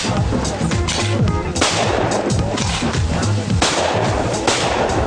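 Gunshots ring out at a shooting competition, a rapid series of loud, sharp cracks close by with brief gaps between bursts, and some voices mixed in.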